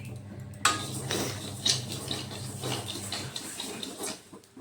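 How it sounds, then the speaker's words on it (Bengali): White mustard seeds dry-roast in a pan, giving a steady close rustle with light ticks and small metallic scrapes as they are stirred. A brief sharp clink stands out near the start. No one speaks. "তারপরে দিয়ে দিচ্ছি সর্ষে, এটা সাদা সর্ষে দিচ্ছি। সর্ষেটাও একটু কমই ভাজবো"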